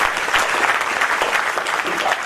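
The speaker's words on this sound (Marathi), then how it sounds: "याच्यासाठी जबरदस्त जोरात टाळ्या वाजवा" A crowd applauds steadily and loudly at a children's Majha Shivba storytelling event about Chhatrapati Shivaji Maharaj, the dense clapping holding without a break.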